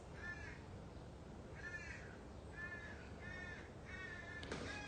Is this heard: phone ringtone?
no